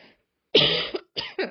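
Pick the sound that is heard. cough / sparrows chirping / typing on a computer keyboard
cough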